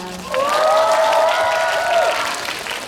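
An audience applauds at a movie stage greeting and live talk at CGV Yeongdeungpo in Seoul. A sustained vocal cheer sits over a bed of fairly close clapping that fades slightly toward the end.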